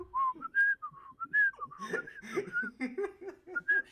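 Someone whistles a light, bouncy little tune, with quick rising and falling notes, close and clear, and soft laughter and chuckles mixed in partway through.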